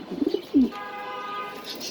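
A male fancy pigeon at a Dhaka pigeon farm gives a few short, close coos, followed by a sustained tonal hum in the background.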